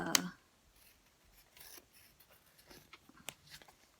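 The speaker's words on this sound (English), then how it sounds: "I'm just going to cut this one out" Scissors cut scraps of paper for a journal project, with a sharp snip at the start and then soft, quiet snips and rustles close by.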